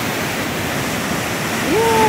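Sea waves surging at Sliema beach in Malta, a steady broadband rush of water that grows slightly louder toward the end, with a brief faint voice-like tone near the close.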